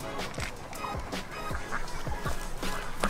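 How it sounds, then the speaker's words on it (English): Geese at a state park honk repeatedly in a noisy flock, harsh overlapping calls coming every half second or so against a dense outdoor background. "Geese is back for revenge."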